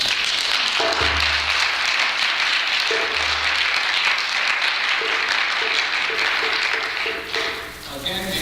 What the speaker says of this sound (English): One more round of applause to everybody who